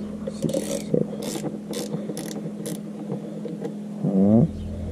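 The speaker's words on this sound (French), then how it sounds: "on fait à la clé, ça va être plus simple" Wrench work on a Honda CB650R motorcycle's tail light assembly, with repeated ratcheting clicks and short metallic bursts close up over a steady low hum, ending in a louder grinding turn.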